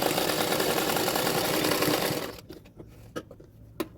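A sewing machine whirs loudly and continuously while stitching the side seams of a half-collar bra-cut blouse, then stops after about two seconds, leaving a few light clicks and taps.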